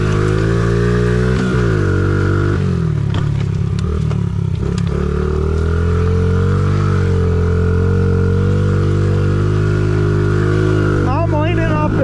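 Small Honda CRF50 or pit bike engine running laps, a loud, steady buzzing drone with a few shifts in pitch and brief revs, close to the rider.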